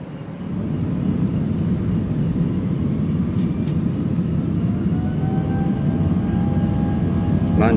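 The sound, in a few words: Airbus A319 jet taking off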